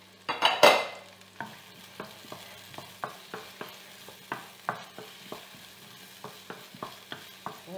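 Bell peppers stirred into a pan with a little olive oil, scraped by a utensil in a steady run of distinct strokes over a soft sizzle, close and moderately loud with no talk.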